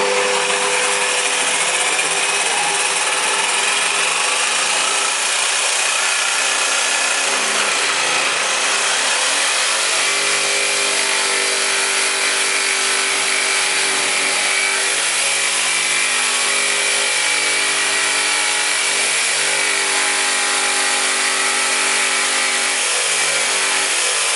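An electric jigsaw cutting continuously, a loud steady high whine with a droning motor hum that holds without pause for the whole stretch.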